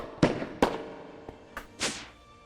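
Laser turret gun in a video game firing a few sharp blasts, two loud close shots followed by fainter bursts and a softer whooshing discharge, with no talking.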